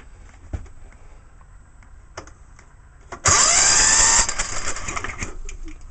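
A Tecumseh ignition coil from OH-140, OH-160 and OH-180 engines fires on a test rig, giving a sudden loud, steady buzzing crackle of sparking that lasts about a second, then a slightly quieter rattle afterwards, with no talking.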